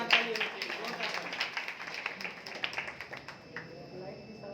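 Clapping from an audience at an indoor award and felicitation event, a fairly brief burst of scattered hand claps that thins out over a few seconds, with some voices mixed in.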